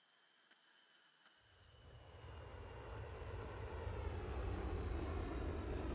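A display aircraft making its final manoeuvre at an airshow roars in from quiet, its engine noise swelling over the first two seconds into a loud, steady, broadband rush that holds to the end, with no talk.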